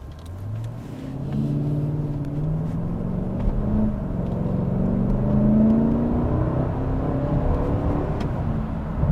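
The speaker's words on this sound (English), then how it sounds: "This is the AMG engine" Engine of a 2026 Mercedes GLS 580 AMG while driving, a smooth rising and falling hum as the SUV accelerates through several gear changes, moderately loud with road rumble underneath.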